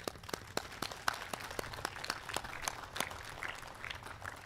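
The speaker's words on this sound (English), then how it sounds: "So congratulations, applaud yourself." Scattered audience applause rings out at a nursing school pinning ceremony, a fairly faint, uneven patter of hands clapping that carries on throughout without speech.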